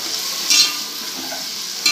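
Tomatoes sauté in a hot pan for mutton biryani, a steady close sizzle with brief bursts of stirring scrapes.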